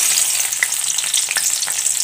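Garlic and onion hit hot oil in a pan while cooking a taro and tomato dish, giving a steady, close, continuous sizzle with no voices.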